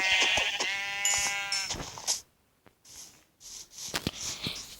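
A sheep bleats loudly and close by, a long wavering call, followed by a short quiet gap and then sniffs, snorts and rustling from nearby livestock.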